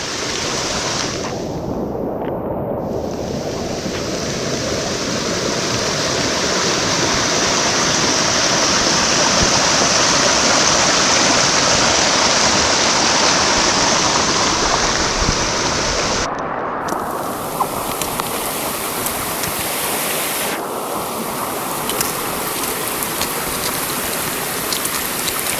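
A brook rushes at a trail water crossing near Lincoln Woods in the White Mountains on washed-out autumn trails, a loud, continuous, close-up roar of churning water that holds steady throughout.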